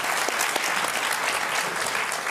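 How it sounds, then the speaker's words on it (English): Steady audience applause at the 2024 NATO Public Forum fills the clip, dense and continuous clapping at even loudness throughout, with no voices standing out. "Yes, please give your warm applause."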